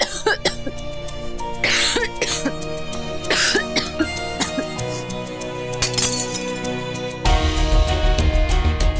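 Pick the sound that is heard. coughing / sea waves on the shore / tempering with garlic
coughing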